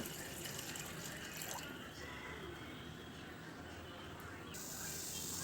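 Water pours steadily into a pot of homemade nannari sharbat syrup to be boiled, a continuous splashing stream, fairly close and soft.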